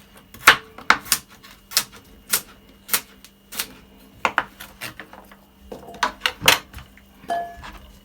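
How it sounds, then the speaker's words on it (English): Two carrots are chopped with a knife on a cutting board: a series of sharp, close, irregular thuds and clacks, a dozen or so strikes with short pauses between bursts. "Just gonna chop them up like that."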